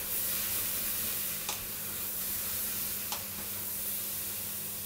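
Meat and bacon for boeuf bourguignon hit a hot pan, producing a loud, continuous broadband sizzle close up, with a couple of brief sharp scrapes or clicks over the steady hiss.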